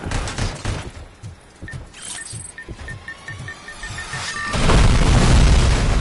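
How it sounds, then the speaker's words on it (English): Missile explosions in the video game Robocop Rogue City: a rapid run of loud, crackling blasts and booms, with a heavy, sustained roar of detonations building toward the end. "those missiles are total fucking hailfire"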